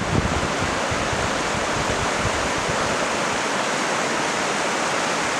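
The East Fork Quinault River in Olympic National Park roars steadily near O'Neill Creek, a dense, constant broadband wash that continues unbroken throughout.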